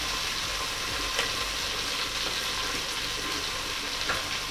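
Sliced onions and chopped ginger frying in a pan, a steady even sizzle with a few faint ticks and pops, moderate in level and uninterrupted.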